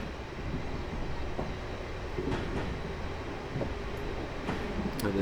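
A Class 444 electric train in Train Simulator 2014 rolls down a gradient, giving a steady low rumble of wheels on rails with faint intermittent clicks and squeaks, no voices.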